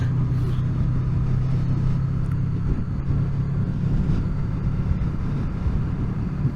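Honda VFR800 motorcycle ridden over a gravel-strewn road, a steady low engine drone mixed with heavy wind rumble on the microphone, continuous and fairly loud throughout with no pauses.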